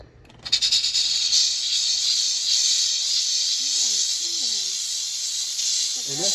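A Vevor 8-in-1 steam mop releases a strong, steady hiss of steam after a short start, continuous and close while cleaning floor grooves, with someone talking quietly beneath it.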